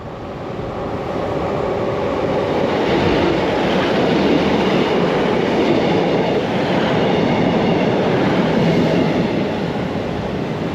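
A passenger train comes into Dawlish station on a stormy but sunny day, a loud, steady rolling rumble with clattering wheels that swells up close and holds without letting up.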